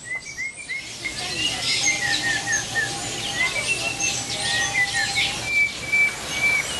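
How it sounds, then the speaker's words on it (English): Male violet-backed starling, also called amethyst starling, on an African trek trail, giving repeated short chirps and whistled notes over steady outdoor ambience, moderately near and continuous. "here we have a male violet-backed starling, sometimes called the amethyst starling"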